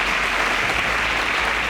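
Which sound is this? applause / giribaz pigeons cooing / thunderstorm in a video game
applause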